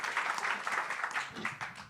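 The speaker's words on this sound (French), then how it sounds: "je prends les applaudissements pour les équipes du Forum des images aussi" A theater audience at a Forum des images debate on artificial intelligence applauds, a soft, fairly distant wash of many hands clapping for about two seconds.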